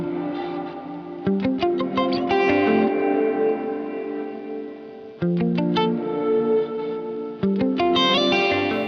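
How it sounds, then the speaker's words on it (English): Electric guitar played through a Walrus Audio R1 reverb pedal on its react setting: strummed chords and picked notes bloom into shimmering, swelling reverb tails, in about three phrases with brief breaks, loud and close, no voices. "This is the react setting in the reverb."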